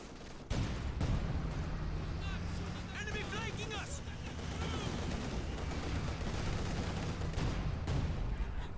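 Gunfire and rocket launcher blasts in a competitive Citadel bracket match of a shooter video game, with dense sustained loud bursts and explosions throughout while a commentator talks over the action.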